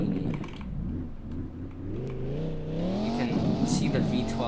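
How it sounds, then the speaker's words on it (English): V12 engine of a Spano sports car revs, rising in pitch over a couple of seconds before falling back, with clicking and people talking nearby. "GTA Spano, which this car actually sounds quite insane if you want to take a little listen here"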